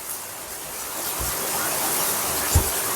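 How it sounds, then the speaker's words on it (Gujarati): Torrential monsoon rain pours down in Surat, a dense, steady hiss close by with a couple of faint low thumps. "તો ધોધમાર વરસાદ આવે છે અત્યારથી"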